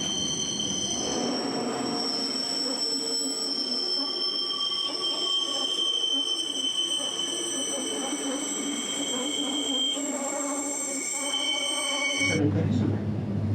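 Bright red Bernina Express train on rails at a level crossing in the Alps, with high sustained wheel squeals over low rumble and a sharp change near the end.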